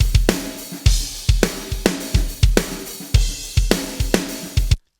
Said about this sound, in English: So still got that kind of ring in the snare